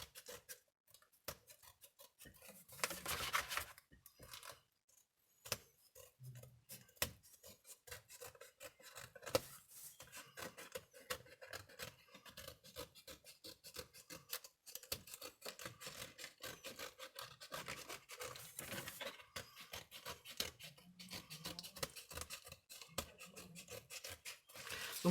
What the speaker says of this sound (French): on vient couper tout autour du carton